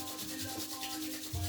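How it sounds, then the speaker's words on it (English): Palms rubbed together briskly and vigorously during a vinyasa yoga session, giving a continuous close swishing friction with no pauses and a slightly heavier stroke near the end. "rub your palms together briskly,"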